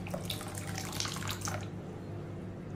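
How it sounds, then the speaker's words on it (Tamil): Water pours from a vessel into a pot of millet porridge being made for weight loss, a bright splashing trickle for about a second and a half that then stops, leaving a low steady hum behind it. "இன்னும் கொஞ்சம் தண்ணி ஊற்றிக்கிடுவோம்."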